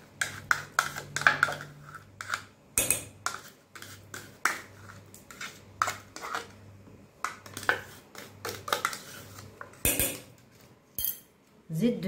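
A utensil stirs dessert cream and chocolate in a bowl, giving irregular scraping clinks and sharp taps against the bowl in short rhythmic bursts, close and fairly quiet.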